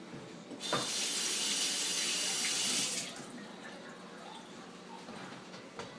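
A kitchen tap gushes loudly for about two seconds as hands are rinsed, then shuts off, leaving quiet room tone.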